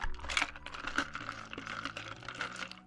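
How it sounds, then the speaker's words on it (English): Keyboard typing, a quick run of clicky keystrokes tapping irregularly but steadily, close and fairly quiet, with no voices. "oh, and typing. I don't like typing sounds."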